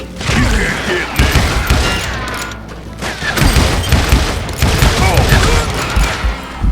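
Gunfire rattles in the Western shooter game Call of Juarez: Gunslinger, with loud bursts of shots and mechanical clatter layered over a dense, booming game soundtrack.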